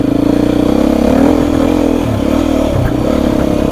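A Beta dirt motorcycle rides along close by in first gear, its engine buzzing and revving in rough pulsing surges with rattles from the chassis, loud and continuous.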